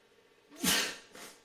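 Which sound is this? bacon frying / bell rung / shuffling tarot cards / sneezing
sneezing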